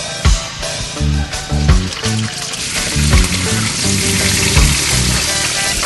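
Bonito fish frying in a pan for a Filipino meal, a dense steady sizzle with repeated clattering knocks and scrapes over it, loud and close throughout with no talking.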